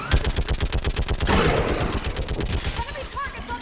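A mounted gun in Mass Effect 3 fires a rapid, loud, steady stream of shots at close range, the rhythmic bursts continuing throughout under battle noise.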